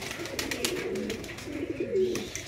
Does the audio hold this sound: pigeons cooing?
yes